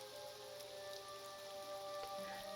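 Steady, dense pounding rain falls in the video game Neverwinter Nights, a continuous hiss that stays even throughout and mixes with faint tonal music.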